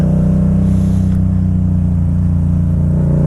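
A motorcycle engine holds a loud, steady throaty drone at close range as the rider pops a wheelie, with no clear rise or drop in revs.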